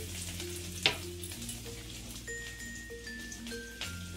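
Chopped garlic frying in a pan with cumin seeds, giving a soft steady sizzle with a brief clink near the start and faint background hum.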